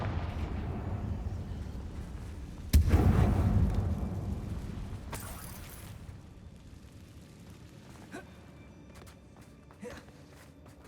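The Confringo blasting spell in Hogwarts Legacy lands as a sudden booming blast inside a mine, with a heavy low rumble that decays over a few seconds. A second brighter whoosh follows, then faint scattered ambient sounds.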